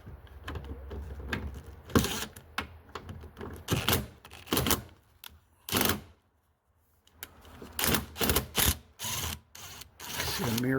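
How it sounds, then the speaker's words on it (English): Socket wrench working a door mirror screw on a Subaru Ascent, quick bursts of ratcheting clicks separated by short pauses, close and fairly faint, with no talk. "put it on the socket so it'll stick to the socket instead of falling inside"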